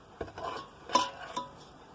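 Semolina (suji) is stirred in a pan over very low heat for egg and milk halwa, giving soft scraping and a couple of light utensil knocks against the pan, close and quiet with no speech.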